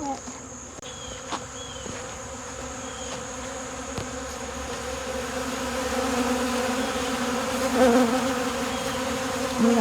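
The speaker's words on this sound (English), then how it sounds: "These bees are trying to salvage what was left of their buddies on out the bottom of this floor" Honey bees buzz steadily across a shed floor, a continuous droning hum that holds at a moderate level with brief individual wingbeats flicking past close to the microphone.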